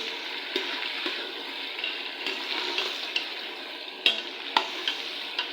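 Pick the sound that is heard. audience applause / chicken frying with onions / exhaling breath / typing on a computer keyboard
chicken frying with onions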